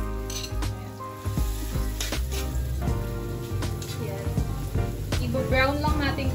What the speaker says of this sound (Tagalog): isasauté lang natin yun sa butter and sa garlic